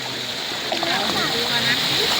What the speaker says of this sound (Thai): น้ำพุสวยมาก